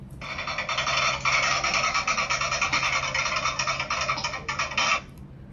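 A steady, buzzy rattling drum roll from a damru hand drum, fast and continuous for about five seconds, loud and close, with a brief dip near the end.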